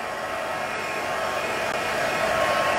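A heat tool blows in a steady, loud, unbroken whoosh as it dries ink on a handmade birthday card.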